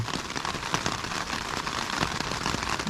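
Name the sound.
rain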